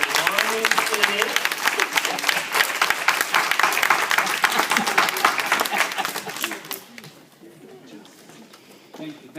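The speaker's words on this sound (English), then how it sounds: "I would now like you all to give him a big round of applause" Applause from an audience welcoming a speaker at a scholarship program, dense and steady for about seven seconds before thinning out, with voices talking over and after it.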